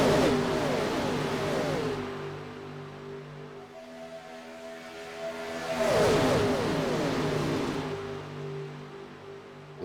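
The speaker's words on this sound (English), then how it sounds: "Love the sound of these cars as they come past the cameras" Race cars in a sim racing game roar past at Daytona, engine note rising loud, fading, then surging again as a second pack sweeps by the trackside cameras.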